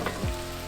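Sisig sizzles steadily in a hot cast iron skillet, a close, bright frying hiss with a quick low thump partway through.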